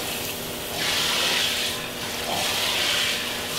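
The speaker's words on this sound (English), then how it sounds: "If you have a sprayer, take it for the handle just to cool it down and get it started." A kitchen sink sprayer blasts water into a hot pan after searing steak, a close, loud, steady rushing spray that swells and eases as the stream shifts, with no voices.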